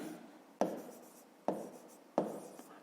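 Three distinct pen strokes scratch across paper at a close, quiet distance, spaced under a second apart, as a math answer is written down.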